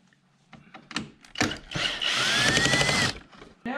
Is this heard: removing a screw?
yes